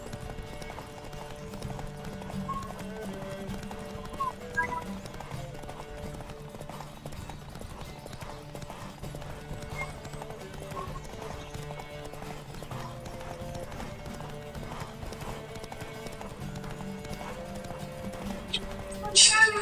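Horses galloping with steady clip-clopping hooves, quiet to moderate and continuous, with an occasional whinny and voices talking over them.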